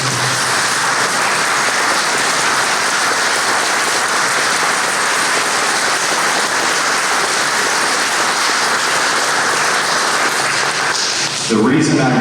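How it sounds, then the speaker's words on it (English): An audience at a city address applauds a police officer, dense, sustained clapping filling the room at full loudness before a voice returns near the end. "a round of applause"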